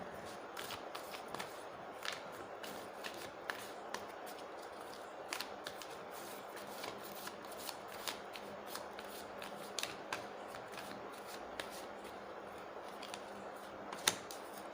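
Tarot cards are shuffled and drawn for a pick-a-card marriage reading, a steady run of soft papery riffles and flicks with a sharper snap near the end, close and quiet with no talk.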